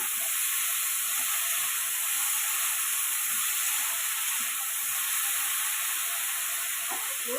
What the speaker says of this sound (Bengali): এরপরে আমি বেগুনগুলোকে তেলের মধ্যে ছেড়ে দিলাম।